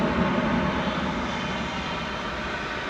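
Airliner taking off at night at Dallas Fort Worth Airport, a dense steady jet engine roar, loud and sustained, with no talking.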